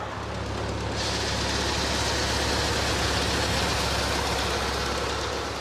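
A Galion road grader's engine idles loud and close, a steady rumbling drone that swells slightly after the first second and holds evenly with no voices.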